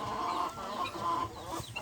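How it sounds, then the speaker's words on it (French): A Cougnou-Leghorn cross hen gives soft, repeated clucks close by, with a steady low background hum. "c'est une poule croisée Cougnou-Legorn"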